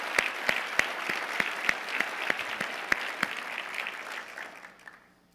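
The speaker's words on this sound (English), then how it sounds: "Big applause." Audience at a Port of Long Beach event applauding a project leader, a moderate roomful of clapping with a few sharp individual claps standing out, fading away at the end.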